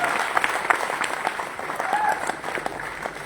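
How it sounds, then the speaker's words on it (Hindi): Seminar audience applauding in a hall, a sustained crowd of clapping hands at moderate loudness with a voice speaking over it. "तो जोरदार ताली होनी चाहिए इस लेवल के लिए"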